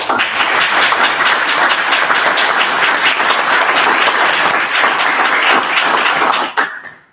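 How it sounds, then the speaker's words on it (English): A loud, sustained round of applause from an audience at a Toastmasters speech contest, dense steady clapping that holds strongly before cutting off abruptly near the end. "let's give everyone a round of applause"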